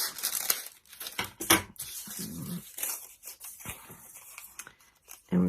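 Scissors cut through paper in quick irregular snips with crinkling and tearing sounds, close and crisp, with short gaps between cuts and a sharper burst at the end.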